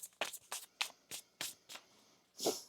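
A series of brisk tarot card shuffles: short papery riffles and taps in an uneven rhythm, close and clear, ending with a softer slide.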